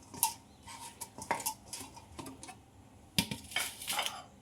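Poha is mixed with cumin powder and salt in a metal pan, with irregular clinks and scrapes of a spoon against the pan and soft stirring between them, close and fairly quiet, with no voices.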